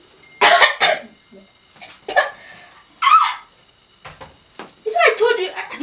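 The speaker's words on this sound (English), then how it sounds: "She was coughing blood." A woman coughs in a series of harsh, wet bursts, faking a bloody cough, with loud separated fits followed by a rougher trailing cough close to the listener.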